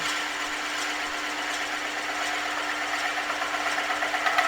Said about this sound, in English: Hold the tool steady in this one position so that we can create a reference groove or a starting point